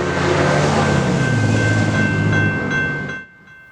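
A BNSF Transcon freight train rumbles loudly past a railroad crossing in Galesburg, Illinois, its steady roar and rolling clatter fading and cutting off near the end, with a crossing bell's high tone ringing throughout.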